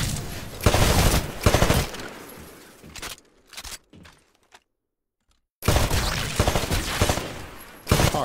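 Bursts of rapid rifle fire crack and echo at shooting range targets in Titanfall, loud clusters of shots separated by short pauses, with a silent gap midway before heavy firing resumes.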